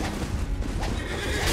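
A horse neighs amid Elden Ring boss-fight audio against a mounted horseman enemy, a loud whinny rising out of a dense, continuous wash of game sound effects and rumble.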